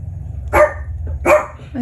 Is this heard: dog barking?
yes